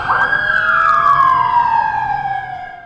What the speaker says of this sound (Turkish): İstiklal Marşı'nın ardından bir dakika siren çaldı